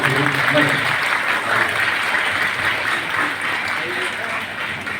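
Audience applause at a devotional children's Vishnu Sahasranamam recitation event, a steady dense wash of clapping filling the whole stretch, fairly loud and even throughout.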